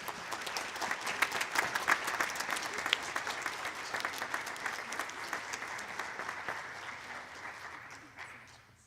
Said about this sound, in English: Another round of applause for these students